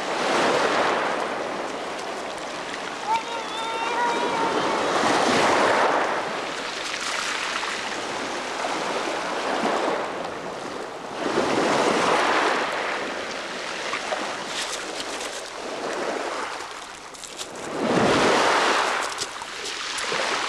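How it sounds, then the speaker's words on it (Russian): Sea waves surge and break on a shore at Kabardinka near Novorossiysk, with broad washes of surf rising and falling every few seconds under steady wind noise, loud and close, with no voices. "Яна, смотри, какие волны идут, осторожно"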